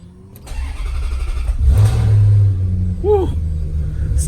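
A Maserati 4200 V8 engine cranks and fires up, settling into a loud, rumbling idle with a brief rev, heard close and alone with no talking.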